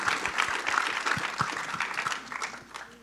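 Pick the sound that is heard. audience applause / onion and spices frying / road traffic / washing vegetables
audience applause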